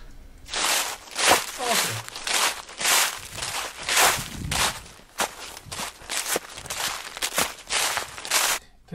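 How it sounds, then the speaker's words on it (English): Library recording of footsteps with a steady, crunchy tread, close and moderately loud, each step carrying a gritty crinkling texture throughout. "oh, here we have footsteps"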